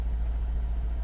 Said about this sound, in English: The idle went up a little bit.